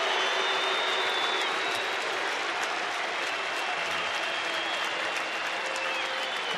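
A packed ballpark crowd at the Rangers' 2013 tiebreaker against the Angels cheers loudly and continuously, a broad, even roar of voices and clapping rising behind a two-strike pitch, with no talking on top.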